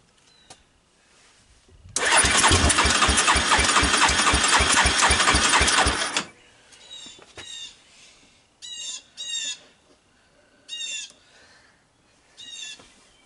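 A Yamaha Warrior 350 ATV engine cold-starts and runs with a loud, rapid chugging for about four seconds before cutting out, after which only crows cawing in short bursts nearby remain.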